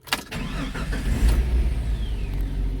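A Jeep Comanche pickup cranks briefly and catches, then settles into a steady idle close by. The battery had been dead and was recharged, and the truck starts with the clutch down in neutral.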